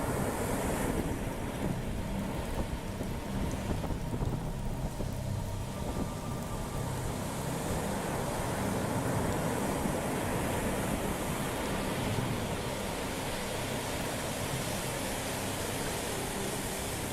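Ocean waves crash and surge on a sandy beach in a continuous low roar, mixed with heavy wind buffeting against the microphone, no voices present.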